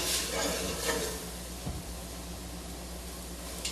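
Food stirred in a pan on the stove gives a steady soft sizzle, with a few scraping strokes and one brief clatter near close range; faint speech may be present.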